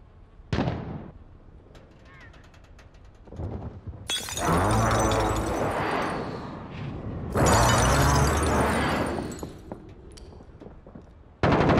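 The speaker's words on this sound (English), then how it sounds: "Precision airstrike, take cover!" Precision airstrike explosions on Rebirth Island at night in Warzone: after a few scattered sharp cracks, two massive roaring blasts hit a few seconds apart, each with a long crumbling, debris-filled tail.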